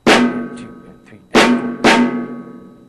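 A few sharp drum hits from a drum set playing a simple rhythm pattern, three resonant strikes with ringing decay, spaced unevenly and close-miked.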